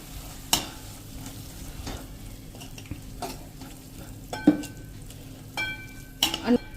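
Soya chilli manchurian mixture with vegetables and sauces is stirred in a hot frying pan, a soft continuous sizzle punctuated by several sharp clinks and scrapes of a spoon against the pan.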